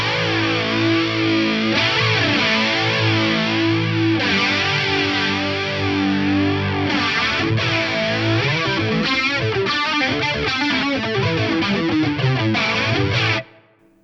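An electric guitar played through a BOSS CE-20 Chorus Ensemble pedal, its bass and treble controls adjusted, producing a steady run of shimmering, warbling chorused chords and notes that continues alone and loud before cutting off near the end.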